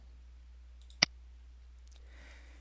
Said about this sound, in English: Let's click on it to continue.